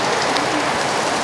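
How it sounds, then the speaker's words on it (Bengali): Rain pours steadily onto a surface in a dense, continuous patter, close and loud, with no pauses across the short stretch. "বৃষ্টি শেষ হচ্ছে না কাজেই"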